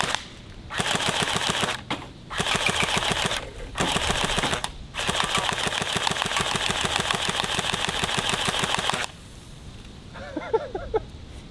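A full-auto airsoft gun fires long rapid bursts at pop cans, loud and close, with sharp rhythmic ticking in several strings separated by brief pauses, then quieter after the last burst.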